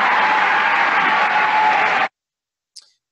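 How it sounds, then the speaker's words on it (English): A crowd at a presidential speech cheers and applauds in a loud, steady wash of noise for about two seconds, then cuts off abruptly, leaving silence and one faint click. "hear the crowd cheering on um, uh, egging him on"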